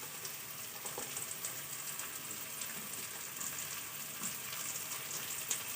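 Mixed vegetables with capsicum frying in a pan for egg chowmein, a soft, steady hiss of sizzling at low volume throughout the few seconds, with no speech.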